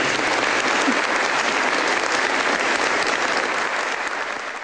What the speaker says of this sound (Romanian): s-o aplaudați pentru ultima oară